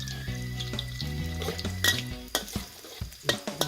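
Garlic stir-fried in hot oil in a pan, with close scraping and clattering strokes from the spatula and a light sizzle underneath, ending in several sharp knocks; background music plays throughout.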